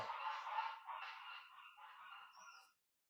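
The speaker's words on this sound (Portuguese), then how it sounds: "Dá para ouvir os patos? Os gansos." A flock of geese honks in a steady, overlapping chorus that sounds fairly distant and faint, then fades out abruptly.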